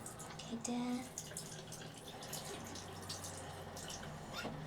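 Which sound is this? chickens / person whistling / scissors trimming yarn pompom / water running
water running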